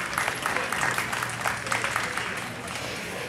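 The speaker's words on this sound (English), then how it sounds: "With our Gray Bulls, I think they deserve a round of applause" Audience applauding at a Gray Bull cattle show, a continuous dense clapping from a crowd throughout, steady and moderately loud, with a voice talking over it.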